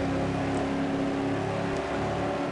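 Steady Ford car engine drone in the racing game Ford Street Racing, a constant mid-level hum with a slight rise, like a game engine loop heard from close by.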